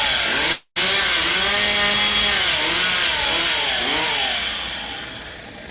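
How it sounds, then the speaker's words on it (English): Chainsaw revving loud and close as it cuts through wood, the engine pitch swooping up and down, briefly cutting out once near the start, then easing slightly toward the end. "You can run that chainsaw on your channel."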